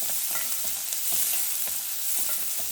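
Onions fry in hot oil for a tri-colour vegetable poriyal, a dense close sizzle with quick rhythmic scraping strokes of a spatula stirring the pan. No speech.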